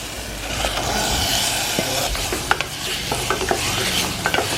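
Mutton liver sizzles steadily in a hot pan while a utensil scrapes and stirs it, with a few sharp clinks near the end.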